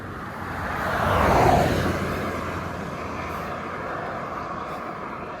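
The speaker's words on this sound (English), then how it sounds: "Car, hold on." A single car passes by, rising from a distant hum to a loud, broad whoosh at its nearest point and then slowly fading away into steady background road noise, with no voices.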